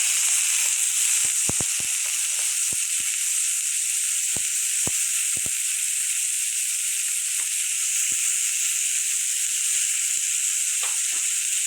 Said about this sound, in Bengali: আমি আলুটা এখন ভেজে নেব।